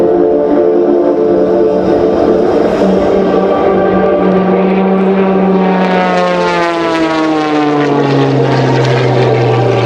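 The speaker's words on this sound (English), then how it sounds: "Watch the nose go around and watch how fast this airplane rolls over 450 degrees per second." An MXS-RH aerobatic propeller airplane rolls rapidly at the NAS Oceana air show, its engine a loud sustained drone whose pitch sweeps downward as it maneuvers overhead.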